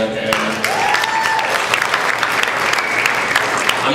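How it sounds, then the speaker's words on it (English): Loud, dense applause from a comedy club audience, a continuous wash of many hands clapping with some crowd voices and whoops mixed in throughout. "Round of applause for all the good dads that are out there."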